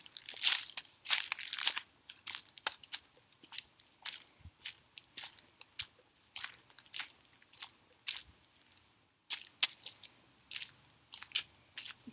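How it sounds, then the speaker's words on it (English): Footsteps crunching through dry fallen leaves on a woodland trail, a steady walking rhythm of crisp, close, brittle crackles with brief pauses between steps. "that's me stepping on a bunch of leaves that have fallen."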